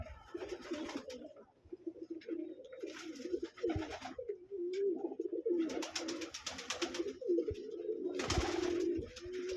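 Pigeons coo repeatedly in low, throaty bursts, close by inside a pigeon loft, with some wing rustling and shuffling between the calls.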